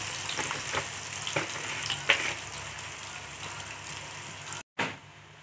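Onions fry in a pan with a soft, steady sizzle, broken by a few light stirring scrapes and a brief pause near the end.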